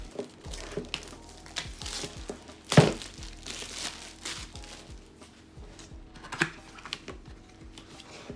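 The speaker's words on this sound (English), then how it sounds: "Taking the plastic off." Plastic wrapping is peeled off a new Zhiyun Smooth 4 gimbal, giving close, soft crinkling and rustling with a few sharper cracks and thunks as the packaging is handled.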